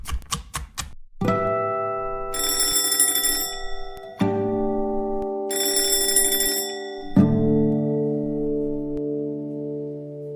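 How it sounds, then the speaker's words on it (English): A few quick taps are followed by an alarm clock ringing in loud, sustained electronic chimes. Several bursts each hold a rich, bell-like tone, with brief shifts between them. "the alarm clock keeps ringing"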